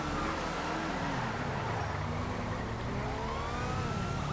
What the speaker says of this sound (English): Police car doing a pit maneuver.